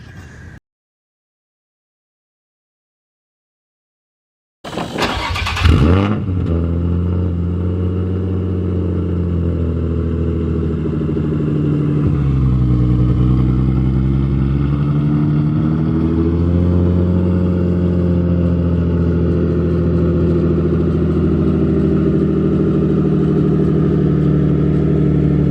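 Turbocharged Nissan 350z accelerating hard from 60 to 130, a loud sustained engine roar that climbs steadily in pitch after a brief silence, with a short dip partway through as it shifts gear.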